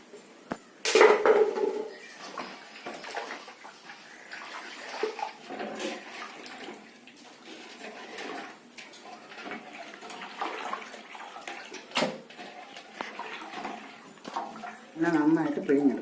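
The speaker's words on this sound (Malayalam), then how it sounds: "കുറച്ച് ഉപ്പും വിനാഗിരി ഒഴിച്ചിട്ട് വേണം മീൻ കഴുകി എടുക്കാൻ വേണ്ടി" Fish is washed by hand with salt and vinegar in a kitchen, with intermittent splashing, sloshing water and light clinks of a bowl, all fairly soft and close.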